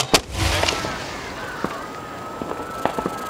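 Fireworks mortar shells bursting at a Port Orchard show, a sharp boom at the start followed by scattered crackles and pops, some near and some distant, with a faint whistle trailing through.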